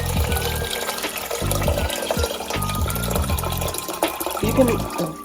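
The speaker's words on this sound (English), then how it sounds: "Next, add water." Water poured over washed rice in a pot while preparing congee, a steady splashing fill heard close up over a faint background hum.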